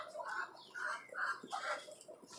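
Tiger-breed hens in a rooftop cage coop give soft, repeated clucks and throaty murmurs, fairly quiet and close, in a loose rhythm.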